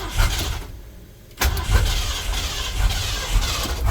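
A turbocharged Ford 351 engine with an MSD ignition box cranks briefly, pauses, then catches and fires into a loud, rumbling, uneven idle up close.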